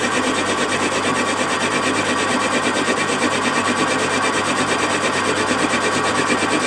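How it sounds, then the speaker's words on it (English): Metal lathe in a home shed skimming the outside diameter of a workpiece down to size, giving a steady, continuous cutting rasp with a constant motor hum, loud and close, with no talk. "I'm just skimming the outside down to 43"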